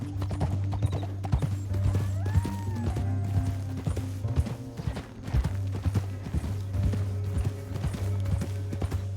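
Horses from Red Dead Redemption 2 clip-clop along a canyon trail in a steady rhythm of hoofbeats, with a brief whinny midway over a low musical drone, fairly close and unaccompanied by talk.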